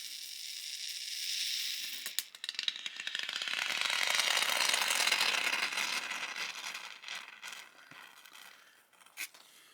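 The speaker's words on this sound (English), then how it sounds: "by tipping the nozzle at the end, you get an extrusion of the foam." Expanding foam hisses out of a pressurized can's tipped nozzle, making a close, continuous airy spray that swells, holds and then tapers off, with a few sharp clicks and sputters near the end.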